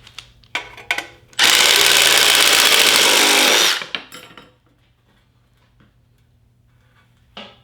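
A DeWalt shear attachment mounted on a Makita drill cuts metal in one loud, steady whir lasting about two seconds, set between a few short taps and clicks, with quiet afterward.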